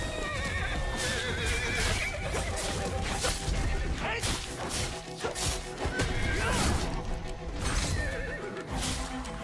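Loud, repeated horse neighs and whinnies over hoofbeats, crashes and thuds, with busy game sound effects throughout.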